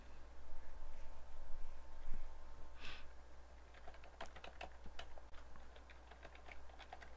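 Computer keyboard typing during a live game-development stream, irregular clusters of quiet clicky keystrokes over a low steady hum.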